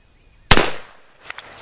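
A .45 Long Colt black powder pistol fires once, a single sharp, loud blast with a short decaying tail, followed by faint clicks.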